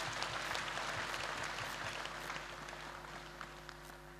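A church congregation applauds in a continuous dense wash of clapping that slowly fades, with a steady low hum running underneath the whole time.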